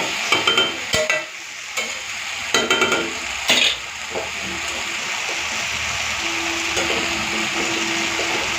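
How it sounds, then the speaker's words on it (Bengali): Mixed vegetables, including pointed gourd, fry in a pan for a shrimp curry, with a steady hiss of oil broken by sharp scraping and clattering stirs early on, then settling into continuous sizzling. "এদিকে সবজিগুলোকে একটুখানি ভাজা ভাজা করে নিয়েছি, এরপরে কাঁচা লঙ্কা আর চিংড়ি মাছ ভাজাটা দিয়ে দেবো"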